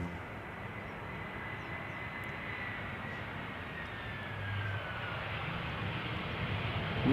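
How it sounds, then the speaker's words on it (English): Iberia Express airliner arriving from Madrid at Schiphol's Polderbaan runway on a warm day, a continuous distant jet engine rumble with a faint descending whine, steady and unbroken. "This is Iberia Express arriving from Madrid"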